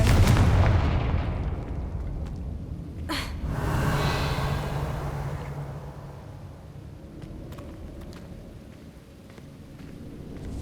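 A Confringo spell explosion in Hogwarts Legacy booms heavily at the start, followed by a sharp crack and a long rumbling decay that fades into faint scattered ticks.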